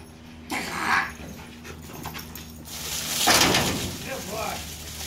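A Dutch shepherd dog pants and whimpers close up, with short bursts of noise rising and falling over a low background hum.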